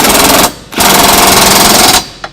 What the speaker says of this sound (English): I'm going to use my cordless impact and tighten them down